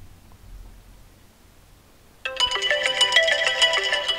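An iPhone X, just repaired after losing its audio, plays its ringtone: a bright, melodic chiming tone that starts suddenly about halfway through after near silence, then continues loud and steady to the end.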